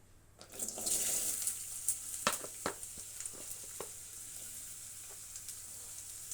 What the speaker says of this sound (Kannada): ಈಗ ಇಷ್ಟು ಸಾಮಾನು ರೋಸ್ಟ್ ಮಾಡ್ಕೋಬೇಕು